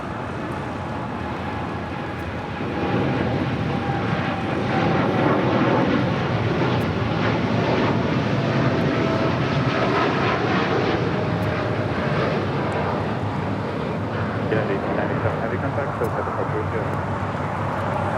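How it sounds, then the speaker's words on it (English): United Airlines Boeing 787-10 Dreamliner taking off at LAX bound for Chicago O'Hare: a broad jet roar swells in after a couple of seconds and holds steady, fairly close, with some engine whine. "This is United Airlines 1897 taking off to Chicago O'Hare on a 787-10 Dreamliner"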